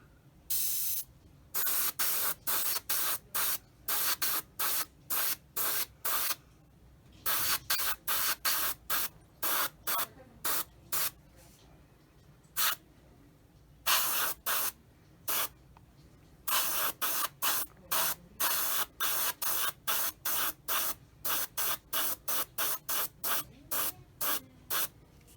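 Airbrush spraying paint onto an Eduard 1/48 Bf 109E-3 scale model, a steady hiss cut into many short bursts with brief pauses, close and loud with no talking.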